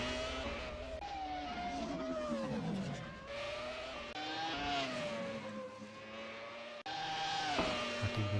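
Powerful race car climbing the Goodwood hillclimb in a racing game, its engine revving steadily up and down through the gears, loud and close, with a brief cut before it roars on again.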